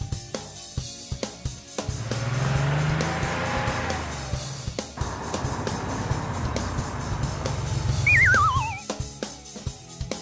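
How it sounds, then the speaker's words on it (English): An ordinary car engine roars past at close range amid tire squeal and skidding, loud and sustained through the middle, then a brief wavering high tone. "Car."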